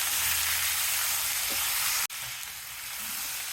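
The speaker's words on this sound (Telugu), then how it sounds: "వేగింది కదా, తిరగమాత దొండకాయ ముక్కల్ని వేసేసి ఒకసారి తిప్పండి" Ivy gourd pieces hit hot oil with a tempering of chana dal and urad dal and are stirred, giving a steady close sizzle with a brief scrape and a short pause midway.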